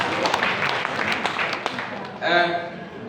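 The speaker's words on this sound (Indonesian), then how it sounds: "Tepuk tangan untuk himpunan kita." Audience applause at a Pertamina Cilacap retirees' association gathering in a hall, a steady crowd clapping throughout with voices mixed in, swelling louder near the end.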